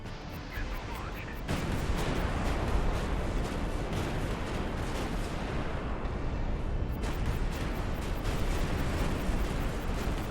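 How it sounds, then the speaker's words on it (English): Missile launched in the naval strategy game High Fleet, a dense roaring rush of rocket exhaust that surges up and holds as a loud continuous blast for several seconds. "Missile launched."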